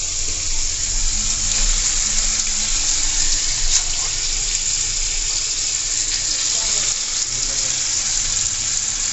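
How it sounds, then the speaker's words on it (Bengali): Marinated mutton hits a pan of fried spices for Bengali mutton kosha, setting off a loud, steady sizzling hiss that runs without a break, close up. "তো এখন আমি পুরো মটনটা এখানে ঢেলে দেবো, বাট জলটা দেবো না"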